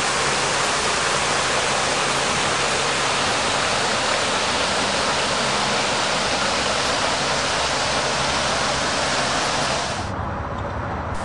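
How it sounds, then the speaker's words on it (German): Fountains and water features in the Rheinpark in Cologne splash steadily, a dense and even rush of falling water that continues throughout and softens slightly near the end. "Nicht zu vergessen, die Springbrunnen und Wasserspiele im Rheinbike."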